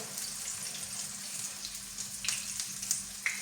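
Steady sizzling of chopped meat cutlets frying in a pan, a soft continuous crackle with a few sharper pops near the end.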